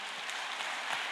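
An audience claps in a church, a brief burst of dense, even applause at moderate volume.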